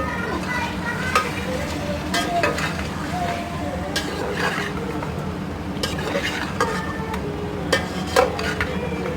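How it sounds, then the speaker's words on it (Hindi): Mutton pieces frying in oil with onions, garlic and ginger for a qorma, giving a steady close sizzle with repeated stirring scrapes and clinks of a utensil against the pot, no talking over it. "बस ये थोड़ा सा इसी ऑयल में हम लोग ये लहसुन अदरक के साथ ही गोश्त को भून लेंगे।"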